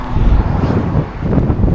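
Strong wind gusts buffet the microphone outdoors near a road, a loud, rumbling roar that rises and falls without pause.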